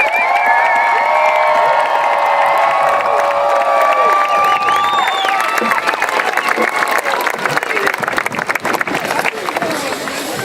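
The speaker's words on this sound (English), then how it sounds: "So let's hear it for the speakers. Big round of applause" A large outdoor crowd at a Families Belong Together rally in Salt Lake City cheers, whoops and applauds loudly, with shrill shouts rising over dense clapping before the noise breaks into scattered claps and calls.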